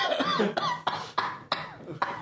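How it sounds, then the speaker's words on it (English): A person coughs repeatedly, five or six harsh, close coughs in quick succession with raspy breaths between. "You're coughing out the remaining air in your"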